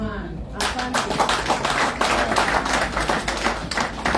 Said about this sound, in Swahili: situwapikie makofi vizuri